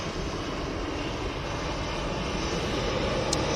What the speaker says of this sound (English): Got the EasyJet in the holidays livery now taxiing onto the runway.